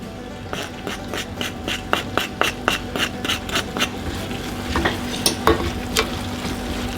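A spoon scrapes steadily through bulgur pilaf with onion and pepper in a sizzling pan, giving a quick, regular run of stirring strokes over a constant frying hiss, then a few slower, heavier scrapes.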